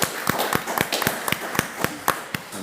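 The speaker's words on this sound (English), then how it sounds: "can you just join me in a round of applause?" Applause from the audience at a town board meeting: rapid, dense hand claps, close and fairly loud, holding steady throughout with no talk over them.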